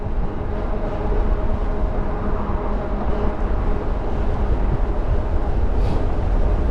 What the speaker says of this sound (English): Oh, and that's a strong wind.